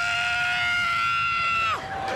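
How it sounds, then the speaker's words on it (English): A game show contestant lets out a long, loud primal scream that holds steady before breaking off and sliding down in pitch, with a short strained cry after it. "Let it out, Primal Scream."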